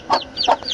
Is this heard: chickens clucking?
yes